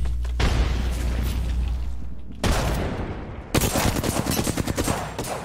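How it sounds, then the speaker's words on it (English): Rapid bursts of video game gunfire crackle and pop in dense volleys, with a sustained loud stretch, a short lull, then another barrage of sharp repeated shots. "I am taking fire."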